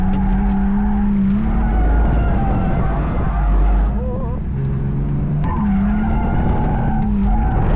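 Car tires squeal continuously while drifting on a race track, a loud sustained screech with wavering pitch over a roaring engine, heard close up from inside the car.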